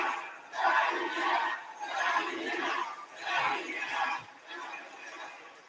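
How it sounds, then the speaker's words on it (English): A large wrestling arena crowd chants in rhythmic, rising and falling waves, several repeated calls in a row, heard from a distance. "Not sure what the crowd was saying there."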